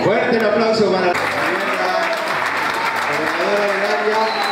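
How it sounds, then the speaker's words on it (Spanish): Audience applause at a school retirement tribute for teachers, a dense steady clapping that swells in after a spoken voice and fills the room, with speech continuing over it. "Fuerte el aplauso para la"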